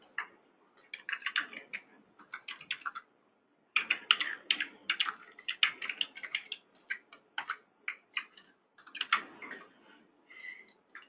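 Steady bursts of computer keyboard typing as a new file name is entered, close and clear with short pauses between rapid clusters of key clicks, no voices.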